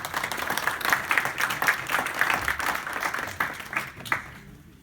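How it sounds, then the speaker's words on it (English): A crowd at a regional glass walk event applauds steadily, dense clapping that holds for several seconds before fading out at the end. "Let's give Craig a round of applause for participating."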